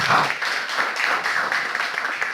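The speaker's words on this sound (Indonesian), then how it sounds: "Tepuk tangan untuk Bu Faiz." Audience applause for Bu Faiz at an evening session of a gathering: a steady, dense patter of many hands clapping for about two seconds, fairly close and even, with no voices on top.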